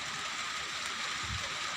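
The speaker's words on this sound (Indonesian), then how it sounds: "kita sambil berteduh sob, harinya hujan" Steady rain falling beside the Kahayan River in Indonesia, a dense continuous hiss of drops on water and surfaces, fairly close and even throughout, with no voices.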